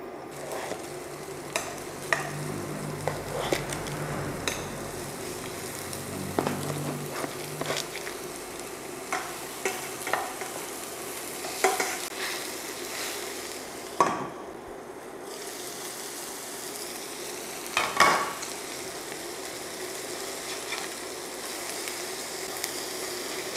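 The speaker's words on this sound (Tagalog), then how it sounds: "Magluto na tayo ng burger patties natin." Burger patties fry in a little oil in a pan, giving a steady close sizzle that runs throughout, broken by scattered spatula taps and scrapes and a couple of louder clanks.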